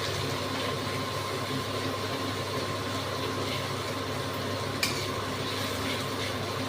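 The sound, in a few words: onions frying in a pan for mutton kosha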